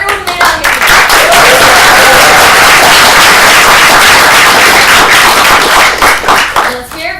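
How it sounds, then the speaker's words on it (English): Loud, dense audience applause at a student activist gathering at UC Santa Barbara, sustained clapping and cheering close to the microphone for several seconds before tapering off. "Let's hear a round of applause for everyone who made it out here today"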